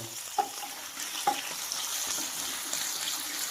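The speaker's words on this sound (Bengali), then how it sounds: "আমি এবার আলুগুলোকে ভেজে নেব, তেলে আলুগুলোকে ভেজে নেব।" Potatoes frying in hot oil, a quiet steady sizzle with a couple of brief clinks from stirring, close by and without speech.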